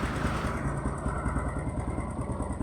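A motorcycle engine idles steadily after a cold-start fix, a close, continuous low putter with a regular pulsing rhythm and no voices.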